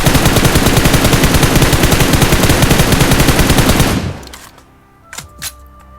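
Rapid automatic scoped gunfire in PUBG Mobile: loud, fast, even shots rattle continuously for about four seconds, then stop abruptly, leaving a quiet tail with a couple of faint clicks.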